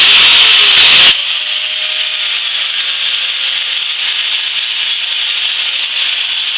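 Corded angle grinder running, a loud steady high-pitched whine that holds constant throughout, after a brief harsher burst of contact noise at the start; close and alone with no voices.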